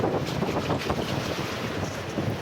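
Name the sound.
strong wind at the seaside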